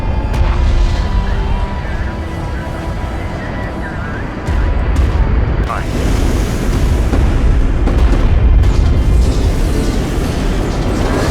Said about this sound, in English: Enemy railgun firing on friendly.